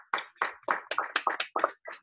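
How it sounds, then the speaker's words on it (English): About ten crisp, separate hand claps at an alumni awards ceremony, sounding like a single person or a very small group applauding close up, with short gaps between claps. "Please give all of our award winners a huge round of applause"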